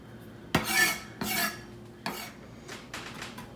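A kitchen knife blade scraped clean across a cutting board after chopping, in three or four firm, rasping strokes close by, with a fainter scrape at the end.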